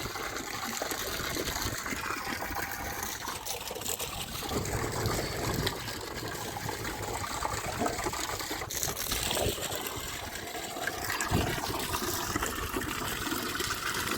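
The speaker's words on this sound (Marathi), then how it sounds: "पाणी आलेलं आहे, पाणी आलेलं आहे. प्रेशर बघा कसा आहे पाण्याचा." Water gushes and splashes steadily from a tap at strong pressure, a continuous broadband rush with occasional gurgles, close by and with no talking.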